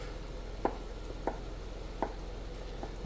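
A knife roughly chops mushrooms on a cutting board, with four evenly spaced, crisp thuds under a low steady background hum.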